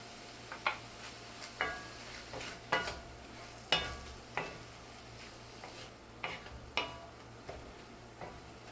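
Chopped onion and red and yellow peppers sautéing with meat for dirty rice, a faint sizzle under a series of sharp, regular clinks of a utensil stirring the pan, about one per second.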